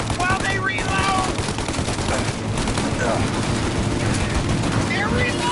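Shootout gunfire in the video game Mafia Definitive Edition, with dense, continuous volleys of rapid shots, loud and sustained, and voices shouting underneath.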